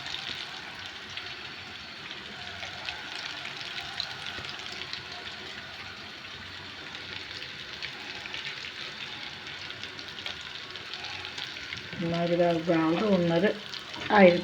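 Lentil köfte frying in a pan at home, a steady soft sizzle throughout with a voice speaking near the end.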